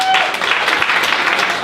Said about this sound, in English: give a quick round of applause for this place